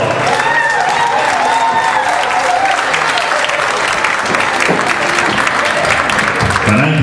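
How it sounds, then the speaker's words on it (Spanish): Loud audience applause at a performance event, dense continuous clapping filling the whole stretch, close and energetic with some crowd noise mixed in. "Fuerte, fuerte, fuerte ese aplauso."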